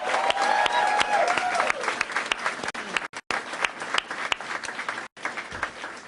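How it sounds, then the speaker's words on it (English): A crowd at a Kamala Harris campaign headquarters event in Delaware gives the team a warm round of applause, dense steady clapping with a few cheers that fades toward the end. "So let's applaud the team."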